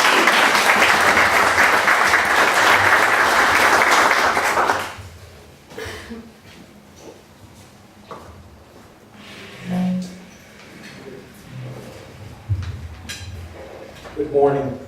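An auditorium audience applauds to welcome Greg Levy at a January 2015 program, steady loud clapping for about five seconds that then cuts off, followed by a quiet room with scattered shuffles and thumps.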